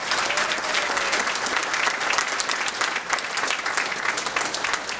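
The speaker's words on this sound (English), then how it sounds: "let's all give each other a round of applause one more time" A crowd at an honors recognition ceremony in Fort Myers applauds steadily, dense clapping from many hands sustained at an even level throughout.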